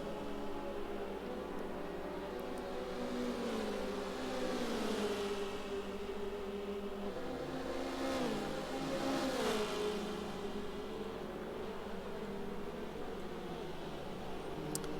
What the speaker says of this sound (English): Audrex points the front end of his Miata back toward the inside of the turn there